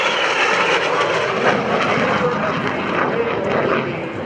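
A Soviet jet aircraft flies at the 2011 AirPower Over Hampton Roads air show, a loud continuous engine roar that stays steady throughout.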